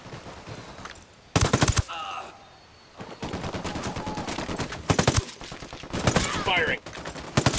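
Bursts of automatic gunfire in Ghost Recon Wildlands, several loud rapid volleys separated by quieter stretches, with game voices talking in between.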